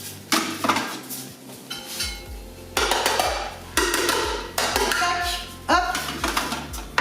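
Dry ingredients for a chocolate-orange cake, including cornstarch, are mixed with a spoon in a bowl, giving close, repeated clinks and scrapes in bursts.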